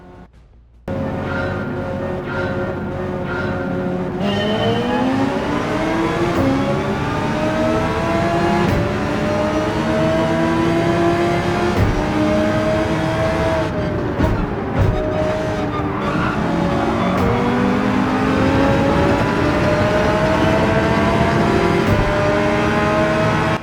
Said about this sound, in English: My God, that new Porsche that was added in the last update is loud.